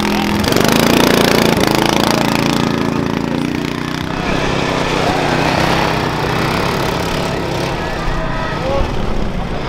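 A racing lawn mower engine roars loud and steady at an amateur redneck mower race weekend, a continuous buzzing drone that swells early on and holds, with crowd noise and talk around it.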